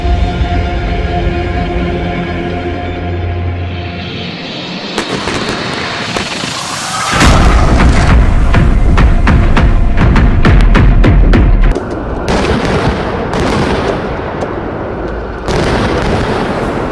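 K9 Vajra self-propelled artillery guns fire at the Mahajan field firing range, sending heavy booming blasts through rumbling engine noise. A run of sharp, loud reports repeats in an irregular rhythm, with a dense burst in the middle.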